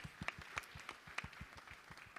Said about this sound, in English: Clap for the young ladies who are joining us.